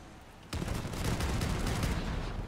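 Rocket launcher fire from the Waltz in World of Warships, starting with a sudden burst and rolling into a dense, rumbling barrage of rapid shots that holds loud for the rest of the moment.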